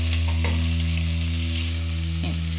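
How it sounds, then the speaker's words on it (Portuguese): Chopped onion and garlic cloves frying in a pan, a steady, loud broadband sizzle with a constant low hum beneath it and a couple of faint scrapes, with no voices. "quando a cebola já estiver loirinha, vamos juntar os dentes de alho e deixar cozinhar só um pouco,"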